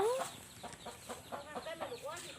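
A mother hen with her chicks on a Thai farm gives a steady run of soft, rhythmic clucks close by, with a faint voice in the background.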